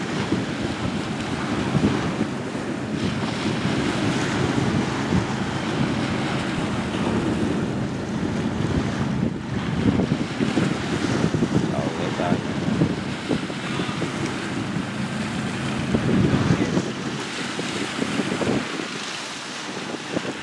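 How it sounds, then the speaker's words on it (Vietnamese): Wind gusts and sea waves buffet a seagoing boat or barge at a river mouth, a loud continuous rush and slosh that lasts throughout, with a voice talking now and then. "Chiếc tàu biển nhảy sóng nha các bạn."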